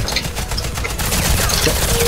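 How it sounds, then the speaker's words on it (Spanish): Loud, rapid automatic gunfire in the shooter Warface, a dense fusillade of overlapping shots that continues without pause throughout. "Tú estás disparando desde atrás al artillero"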